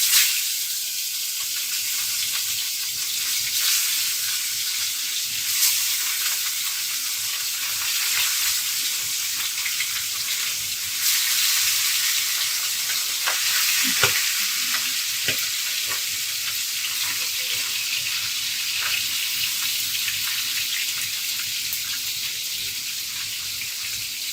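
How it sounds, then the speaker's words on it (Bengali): Kalbaus fish frying in hot oil in a wok, giving a continuous loud, bright sizzle with occasional pops and stirring scrapes, and no talking. "এবার তেলটা গরম হয়ে গিয়েছে এইবার আমি কড়াইতে গিয়ে মাছটা দিচ্ছি"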